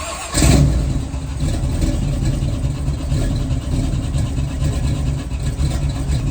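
1979 Camaro V8 with a Holley carburetor, choke removed, cranks in 29-degree cold and fires, then settles into a loud, rough, steady idle close by with no talking.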